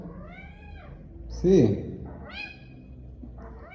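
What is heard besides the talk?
cat meowing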